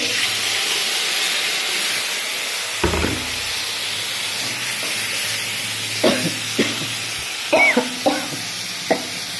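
Tomato dropped into hot oil with mustard seeds and chili, sizzling and hissing loudly while a spoon stirs with scraping knocks that grow more frequent toward the end, close by and with no talk.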